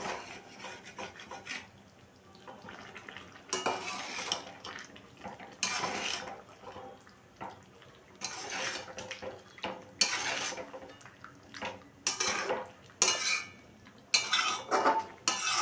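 Chicken with slit green chillies being mixed by hand in a bowl for a dry Andhra-style chicken dish, giving intermittent bursts of wet squelching, rubbing and clinking against the bowl, close and moderately loud, with no talking.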